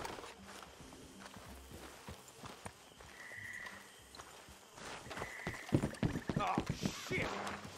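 Horses' hooves clip-clop at a walk under people talking, with light rustling and a brief tone now and then, in the video game Red Dead Redemption 2.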